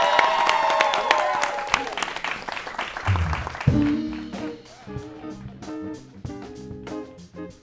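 Studio audience applauding and cheering at the end of a live talk show, a loud burst of clapping that tapers off as band music and a voice come in over it.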